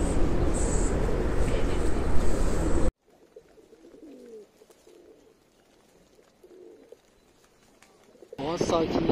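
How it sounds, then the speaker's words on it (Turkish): Pigeons coo and flutter close by while being fed outdoors in an open area, the cooing loud and busy at the start, then dropping to soft scattered calls before rising again at the end. "güvercinleri yemleme işi bana düştü bugün"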